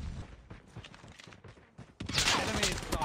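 Rapid enemy gunfire in a shooter video game, a loud burst of shots kicking in sharply after a quieter stretch of scattered footsteps and movement.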